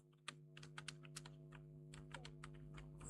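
Keys clatter in quick irregular bursts on a computer keyboard, close and soft, over a steady low hum.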